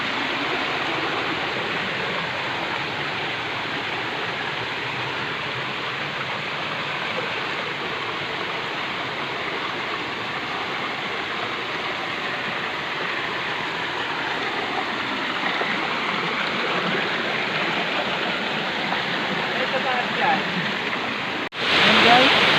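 A waterfall at El Rancho Trail and Resort roars as a steady, loud, broadband rush of falling water that holds constant throughout, with a brief louder disturbance near the end.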